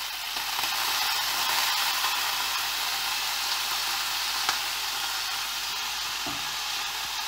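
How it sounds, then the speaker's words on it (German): Soy sauce sizzles in an already hot frying pan while vegan tofu sushi is made, a steady, soft hiss running without pause and with no talking. "Dafür nehme ich dann zunächst ein bisschen Sojasauce. Passt auf, die Pfanne ist natürlich noch heiß."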